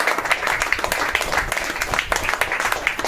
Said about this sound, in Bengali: সকলের গুরুর জন্য একটু করতালি হয়ে যায়।